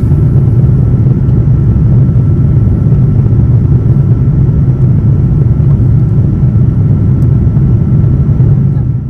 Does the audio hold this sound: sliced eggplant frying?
no